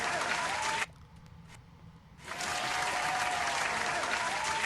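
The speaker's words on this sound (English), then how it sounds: "Let's give a round of applause to Miss Tyler Perry." An audience at a fashion show applauds loudly and steadily, dips briefly for about a second and a half, then swells back to a full, sustained round of clapping.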